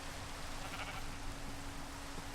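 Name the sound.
sheep bleating in Minecraft modpack Enigmatica 2 (video game)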